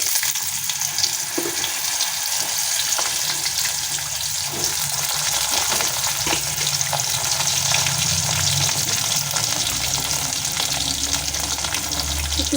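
Cut potatoes fry in oil with cumin seeds, bay leaf and garam masala, a dense continuous sizzle with scattered light crackles and stirring clatter throughout.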